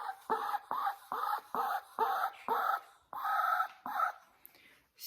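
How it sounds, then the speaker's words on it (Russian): A laying hen in a chicken coop clucks and murmurs in a rapid series of short, close, rhythmic calls, some a little longer and drawn out, with no other sound between them. "Видите, она уже разговаривает, как обычная курица-несушка"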